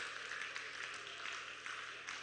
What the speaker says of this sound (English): Please continue to give her a round of applause